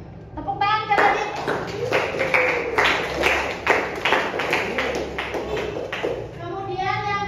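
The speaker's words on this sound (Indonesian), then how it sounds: "Tepuk tangan ke Radit" Classroom applause during a science peer-teaching lesson, a burst of clapping from students lasting several seconds, with a teacher's voice speaking before and after it.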